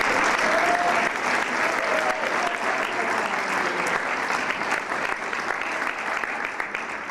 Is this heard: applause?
yes